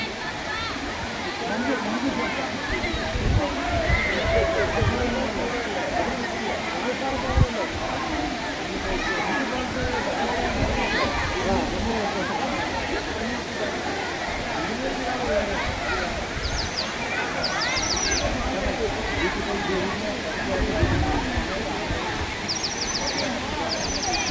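Lakkam Waterfalls in Munnar pour with a constant broad rush of falling water, steady and fairly close, with faint bird chirps breaking through late on.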